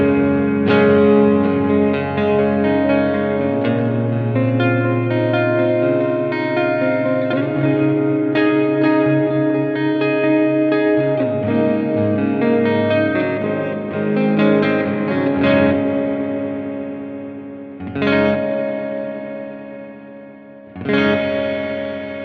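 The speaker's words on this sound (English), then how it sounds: "so you can really hear the reverb" An electric guitar through a BOSS RV-3 delay and reverb pedal plays sustained chords drenched in large-room reverb, notes ringing and trailing off into a long, spacious wash.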